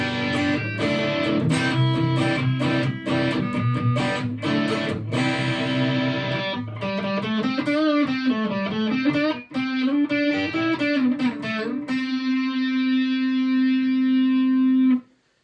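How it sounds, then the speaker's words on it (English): An electric guitar plays through a BOSS GX-1 effects processor on a crunchy overdriven patch with reverb. Strummed chords and a bending, wavering lead line lead into a long sustained note that rings out and stops abruptly. "all the effects and reverb you're hearing are from the GX-1"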